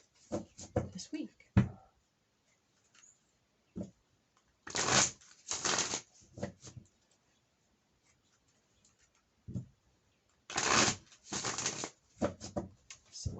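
Tarot cards are shuffled in bursts of papery riffling and flicking, separated by quiet gaps, close and moderately loud.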